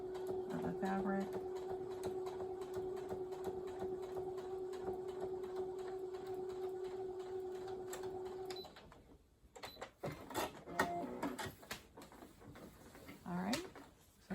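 A sewing machine stitches a quilt-as-you-go king-size postage stamp quilt out to the fabric edge, a steady mechanical hum for about eight seconds that stops, followed by handling clatter and someone talking.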